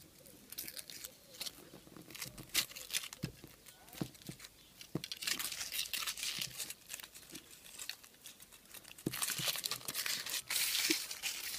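Foil wrapping on a surprise egg is torn and crinkled open, a busy stream of close rustling, crackling and tearing bursts with brief pauses throughout.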